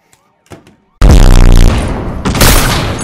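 Loud burst of gunfire in a shooter video game, a dense saturated blast kicking in after a near-silent start and rolling on with heavy booming reports.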